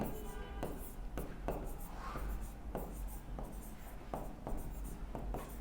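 Pen or pencil scratching across paper while a chemistry oxidation half-reaction is written out, a steady run of short scribbled strokes with brief pauses between words, close and fairly quiet, with no voice.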